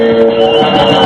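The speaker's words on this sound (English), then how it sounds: "Our sports signature sounds like this." A short sustained electronic tone chord, the CBS Radio sports signature, loud and steady with several held pitches for about a second.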